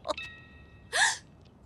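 A cartoon character hiccups, with a short squeaky gulp near the start and a louder, longer hiccup about a second later, each standing alone against quiet.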